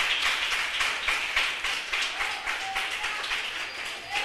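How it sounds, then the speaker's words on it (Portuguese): A church congregation at a Christmas service claps in sustained, fairly dense applause at a moderate distance, with some voices mixed in. "Vamos aplaudir a Jesus mais uma vez?"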